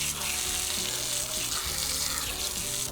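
Garden hose spraying water over a leaking car battery to rinse off corrosion residue, a steady broad hiss of spray hitting the surface that runs unbroken throughout, close and fairly loud.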